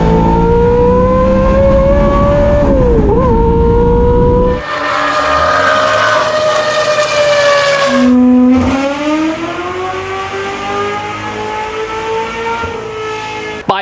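A GM LS V8 with a backwards-mounted, center-exit exhaust feeding an 8-into-1 collector revs hard on a dyno, loud and close, its pitch climbing and falling through several sustained pulls.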